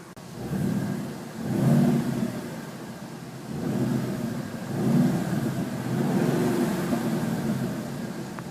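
A 2014 Ford Mustang GT convertible's 5.0-liter engine idles close by with the hood open, then revs up in several swells that rise and settle, a deep steady rumble with no talking.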